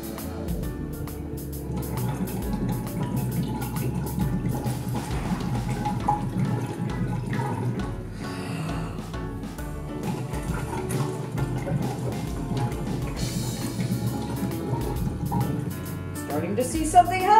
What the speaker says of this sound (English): the best way I know to do that is to blow bubbles into this giant Erlenmeyer flask